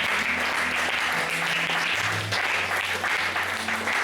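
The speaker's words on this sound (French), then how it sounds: "On acclame le Seigneur." A church congregation applauding and acclaiming the Lord during a service, a dense, steady wash of clapping and cheering that fills the room, with organ or keyboard tones sustained underneath.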